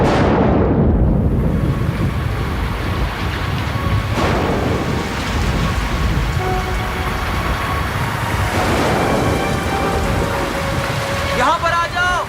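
Steady rain pours down outdoors, a dense loud hiss that fills the whole clip with low rumbling underneath, close and constant, with no one speaking.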